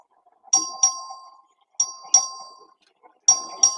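A bell rung to call a record vote in the Texas House chamber, sounding three times as a clear double ding, each pair of bright, ringing strikes followed by a short pause.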